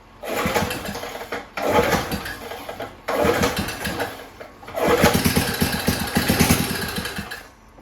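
A 1970 Atlas snowblower engine cranks in four loud, close bursts of sputtering and turning over, with brief pauses between attempts, never catching into a steady run.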